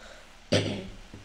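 A single sharp, close cough bursts out from a person playing online blitz chess, followed by a faint softer catch a moment later, with no talking.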